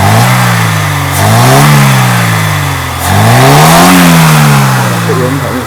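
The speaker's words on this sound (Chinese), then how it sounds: "这原反应是相当顺畅的，这引擎是 OK 的哈，引擎绝对没有问题" A Mercedes-Benz W123 230E petrol engine, just repaired after a fuel distributor fault, revved during testing: two smooth rises and falls in pitch from idle, close and loud, with a steady idle between.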